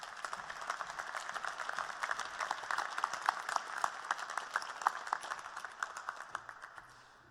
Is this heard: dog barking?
no